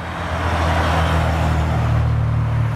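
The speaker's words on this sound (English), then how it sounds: "I can hear something, sounds like a V12 Ferrari. It is! That's a Ferrari 550 rolling by." A Ferrari 550 with a V12 engine rolls past, giving a steady, loud, low engine drone that holds evenly throughout with no talking.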